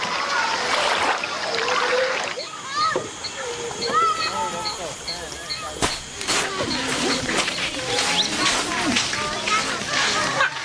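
People swimming and splashing in the Amazon river, a continuous churn of water and splashes with many voices calling and chattering over it, plus a sharp slap partway through.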